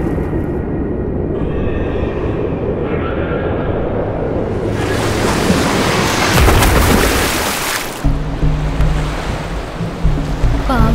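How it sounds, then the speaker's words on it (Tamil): Heavy sea surf surges and crashes in a loud, continuous roar that swells midway and breaks into choppier wash near the end, with no voices. "பாவம் கோபால் தண்ணியில மிதந்துக்கிட்டே அலையோட வேகத்துக்கு அடிச்சுக்கிட்டு போய்கிட்டு இருந்தான்."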